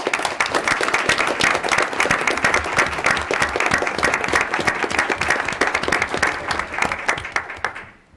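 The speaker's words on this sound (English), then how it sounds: "I'd like to also extend a round of applause for our students' family members joining us today." School board meeting audience applauding students' family members, steady full applause from a room of people, sustained and even for several seconds before fading out at the end.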